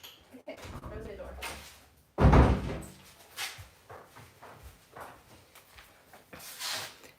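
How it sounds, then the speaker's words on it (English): A door closes with a loud thud in a room, followed by shuffling and movement while people talk in the background. "Okay, close the door."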